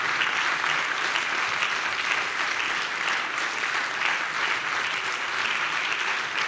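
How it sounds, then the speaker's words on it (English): Audience applause for Alan Rusbridger at a press freedom awards ceremony, dense, steady clapping from a large crowd, sustained evenly throughout without a break. "It's your applause."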